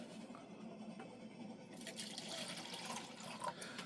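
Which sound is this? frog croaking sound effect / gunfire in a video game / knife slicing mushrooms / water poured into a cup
water poured into a cup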